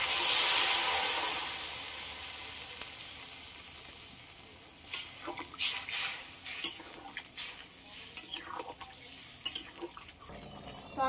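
Bengali curry simmering in a pan after water goes in, a hissing sizzle fading over the first seconds, then a run of uneven metallic scrapes and clinks of a spoon against the pan.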